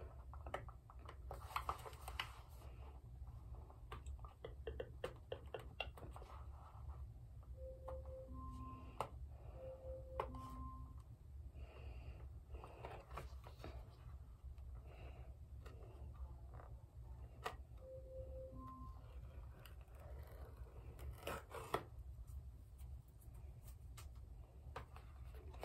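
Beats Studio Buds packaging gets unboxed in a quiet room: soft crinkles, taps, clicks and scrapes of cardboard and plastic, scattered and faint, with a few brief tonal beeps, no talking.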